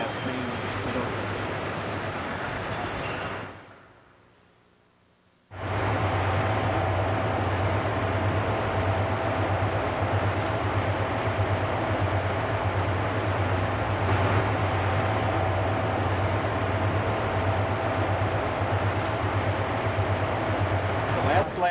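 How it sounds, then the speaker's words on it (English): A DL&W MU electric commuter train on the Gladstone line passes close at Oakland station in 1984, a loud sustained rumble with a steady low hum and rail clatter filling most of the clip after a brief dip. "6:37, the second last train at Oakland."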